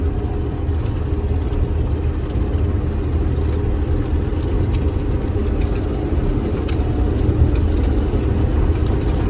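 A John Deere 1177 Hydro4 combine harvests sunflowers in a weedy, ragweed-infested field, its engine and machinery giving a steady, loud, continuous drone with no talking.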